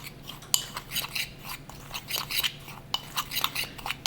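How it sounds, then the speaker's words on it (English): A spoon stirs a dry rub of chipotle, paprika and cumin in a bowl, giving quick, irregular clinks and scrapes close by. "We're just going to give those all a little mix."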